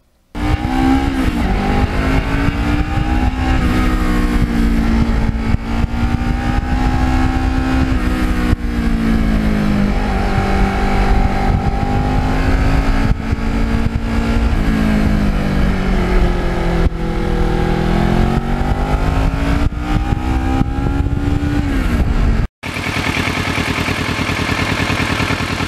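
A 2009 Kawasaki Ninja motorcycle ridden along a rutted, leaf-covered road, its engine droning loud and close with rising and falling revs as it shifts through gears, continuous and without talk until an abrupt cut near the end.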